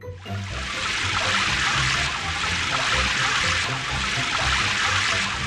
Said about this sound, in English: Time to rinse with water.